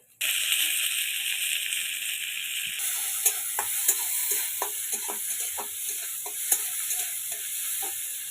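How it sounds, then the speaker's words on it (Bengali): Chopped tomatoes go into a hot pan and set off a loud, steady sizzle and hiss, then a spoon stirring brings irregular scraping clicks and taps over the continuous frying, close-up with no talk. "কুচনো টমেটো দিয়ে দেবো এবার।"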